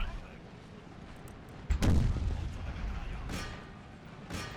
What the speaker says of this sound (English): Just open up lines of fire for the artillery.